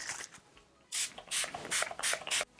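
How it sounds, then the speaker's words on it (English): Urban Decay All Nighter makeup setting spray misted onto a face in several short, sharp hissing bursts, close and evenly spaced, after quiet handling noises. "I use the Urban Decay All Nighter Makeup Setting Spray."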